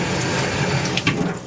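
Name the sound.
water running down unclogged garbage disposal sink drain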